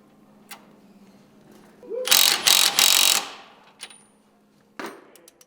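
A ratcheting torque wrench tightens the pinch nut on a Shock Therapy BSD pin to 110 foot-pounds: three quick, loud bursts of close ratchet clicking, framed by a few faint isolated clicks.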